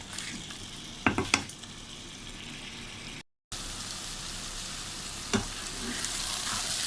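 Bitter gourd (karela) and onion fry steadily in a pan, a continuous sizzle with a few sharp scrape or stir knocks near the start and one more later, close and alone, broken by a brief gap of silence.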